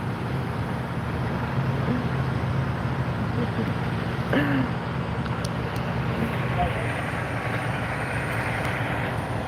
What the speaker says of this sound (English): Got some train wheels going on.